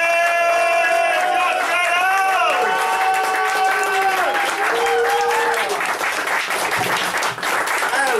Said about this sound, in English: let's get your round of applause going